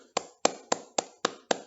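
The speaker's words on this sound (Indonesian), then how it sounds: "Kita berikan aplaus kepada teman-teman yang 2 orang, nah Faiza sama Muhammad Kiflan" Six evenly spaced sharp claps or taps, about a quarter second apart, close and fairly quiet, given as applause for two participants in a classroom learning session.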